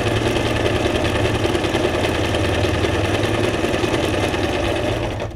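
A sewing machine runs steadily and continuously at close range while stitching junk journal pages, a dense mechanical whir with a fast repetitive needle rhythm that eases off only at the very end.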